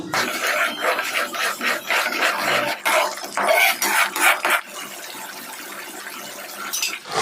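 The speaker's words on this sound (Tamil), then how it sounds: "கூடவே மிக்சி ஜாரை கழுகி அந்த தண்ணியும் சேர்த்துக்குவோம்" Water from rinsing a mixer jar poured into a pan of frying tomato masala paste for fish curry, a loud sizzling, splashing rush in bursts that settles into a softer hiss.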